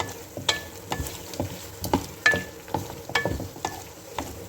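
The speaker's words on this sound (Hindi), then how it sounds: "आलू को अच्छी तरह भूनते हैं।" Potatoes frying and being stirred in a pan, with soft sizzling broken by repeated sharp scrapes and clinks of a spoon against the pan at an irregular rhythm.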